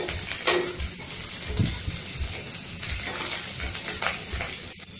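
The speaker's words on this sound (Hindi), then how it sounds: "इसे चला देती हूँ।" Onions and green chillies frying in a pan, stirred with a spoon: a steady sizzle under scraping strokes and occasional light clinks of metal, close and moderately loud.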